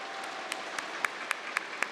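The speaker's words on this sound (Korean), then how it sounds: "감사의 박수 부탁드리겠습니다" A crowd applauds steadily at a political party convention, dense clapping filling the space with a few sharper claps standing out near the front.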